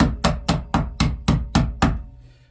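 Seven sharp hammer taps on metal in an even rhythm while scrapping copper, each ringing briefly, followed by a fading resonance.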